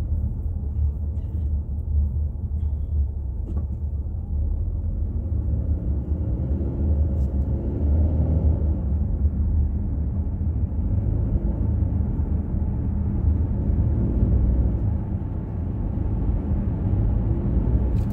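Steady low rumble of road traffic heard from inside a moving car, a continuous dull engine and tyre drone with no voices.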